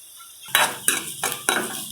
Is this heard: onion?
yes